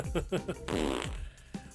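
A comedic fart sound effect dropped into a podcast-style movie review, a short buzzy blurt lasting about a second, close and loud, with some voice sounds around it.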